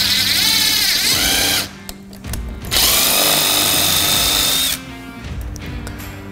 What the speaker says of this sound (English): So we're just gonna go ahead and drill this hole now.